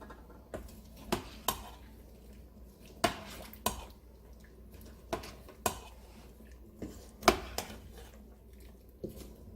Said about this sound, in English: and then I'll start stirring